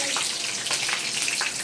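Five-spice seeds hit hot oil in a wok, with green chillies and lentil dumplings, giving a loud, close sizzle with sputtering bursts, no talking.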